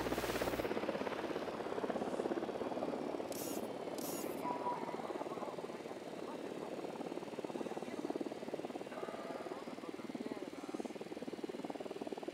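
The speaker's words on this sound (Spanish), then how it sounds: "Helicopter, get down." Enemy helicopter in the video game Ghost Recon Wildlands, a steady broadband rotor and engine drone sustained at moderate loudness for the whole stretch, with no talk over it.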